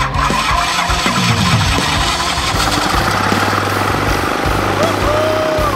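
A homemade foam airboat's engine starts up and settles into a loud, steady, close running drone, continuous for several seconds.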